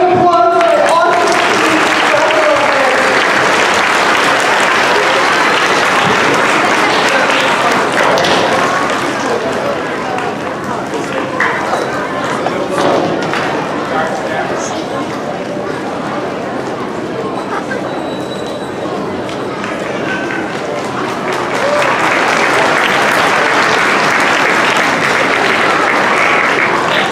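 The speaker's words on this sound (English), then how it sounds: "please, another round of applause for an awesome" An audience at a school graduation ceremony gives a long, sustained round of applause, loud and close, easing slightly midway before swelling again, with voices heard throughout.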